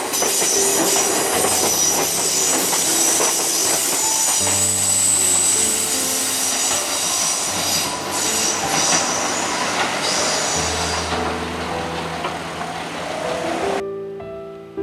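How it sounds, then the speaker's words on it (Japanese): A train rolls closer along a sharply curving track toward a level crossing, loud clattering wheels with high squealing and a low rumble building, then suddenly cutting off near the end. "奥に電車が見え、その電車が大きくカーブして今立っている踏切にやってきます。"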